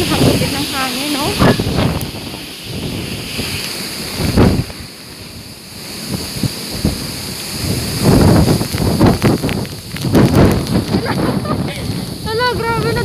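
Strong typhoon wind gusting during storm signal #4 in Silang, Cavite, a broad roaring hiss buffeting close to the microphone throughout, with a person talking intermittently over it.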